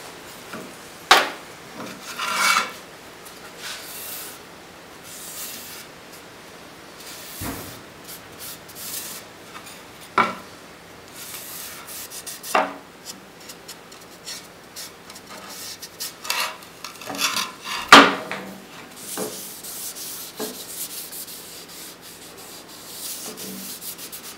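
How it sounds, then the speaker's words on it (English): Close, quiet rubbing and wiping of fruit wood finish onto a welded metal western cowboy wine bottle holder, with soft scattered scuffs and occasional sharper knocks and clicks spread through a low, steady background. "I'm just going to use this fruit wood finish, and I'm going to apply it."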